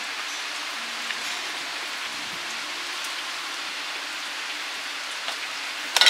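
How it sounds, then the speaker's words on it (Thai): Heavy rain pours steadily outside a home converted into a café, a dense, even hiss of drops drumming on surfaces throughout, with a brief louder burst at the very end. "ฝนตกมืดๆครับ"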